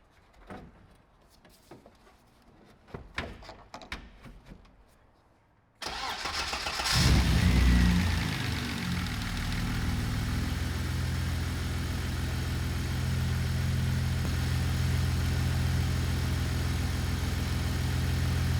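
BMW E30 with a swapped M50 engine cranks over and fires up, then settles into a steady, loud idle that holds to the end; faint clicks and taps of work come before the start.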